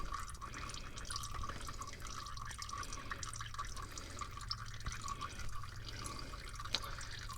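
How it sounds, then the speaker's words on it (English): Engine oil from a Subaru Impreza WRX trickles and drips steadily into a drain pan, a continuous close, moderately quiet liquid patter with no talking. "wait for the rest of that oil to drain"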